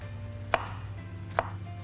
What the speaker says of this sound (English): The next step is to finally chop the garlic so it can go in there